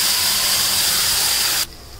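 A loud, steady hiss of ground paste frying in hot oil for parotta kurma comes close up and cuts off abruptly near the end.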